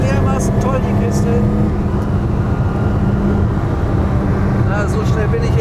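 A 1980 BMW M1 sports car engine roars steadily at high speed, loud and continuous, with a person talking over the noise.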